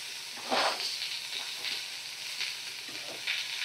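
Finely chopped small onion frying in a pan for a fish curry, a steady close sizzle with bursts of louder crackling and stirring scrapes.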